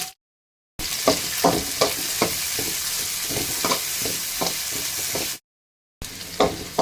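Onions sizzle and crackle in hot sesame oil while being stirred, with scraping knocks against the pan and brief breaks of silence.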